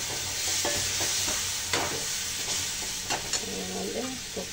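Water hitting a hot pan of cauliflower masala with peas and Kashmiri spice powder, a dense steady sizzle and hiss with small stirring clicks, close and fairly loud.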